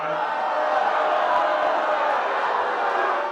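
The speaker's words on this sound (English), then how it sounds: "was a crowd of booing at Monday night's town hall" A large crowd at a Monday night congressional town hall makes a continuous, dense roar of voices that holds steady and loud throughout, without pauses.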